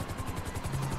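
Helicopter from the video game GTA V, a steady loud rotor and engine drone with rhythmic chopping pulses throughout, no talk.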